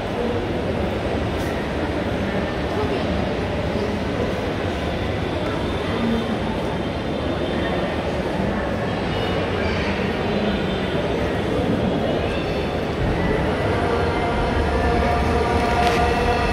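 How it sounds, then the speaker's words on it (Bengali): A Dhaka metro rail train pulls into the station with a loud, steady rumble and hum that fills the platform throughout, with faint higher squeals riding over the low roar. "অবশেষে বলতে না বলতে আমাদের মেট্রো রেল চলে আসছে"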